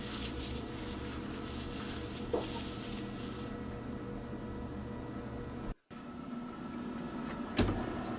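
An oven door thuds shut as a tray of gluten-free peanut butter cookies goes in to bake. Two soft, brief clunks stand out over a quiet, steady kitchen hum, with no talking.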